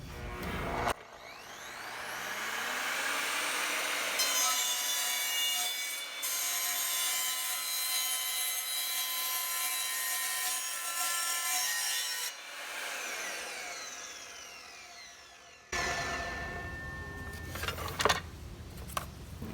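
An Evolution R255SMS 10-inch sliding miter saw cuts through PVC pipe: the motor spins up with a high whine, then a long grinding, rasping cut, a brief drop and resumption, then the blade winds down, followed by a few clattering knocks nearby.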